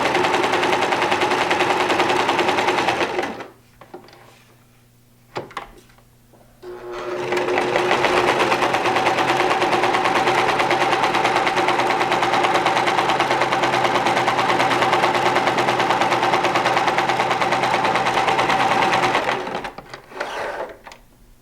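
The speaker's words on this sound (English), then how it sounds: "Once you've finished sewing all of your triangles" A sewing machine stitches fabric triangles for a double-sided pennant banner in fast, even runs, stopping for a few seconds midway and then resuming for a long steady stretch before cutting off near the end.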